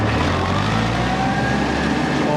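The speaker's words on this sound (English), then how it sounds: "Second high, idle." An Allis Chalmers Model D tractor engine idles in second high gear, giving a steady, low, rumbling drone heard close and continuous.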